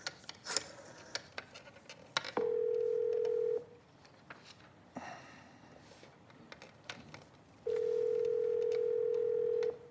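Telephone call on a landline in a motel room, with long steady tones separated by quiet gaps filled with faint clicks and handling noise while waiting for someone to answer.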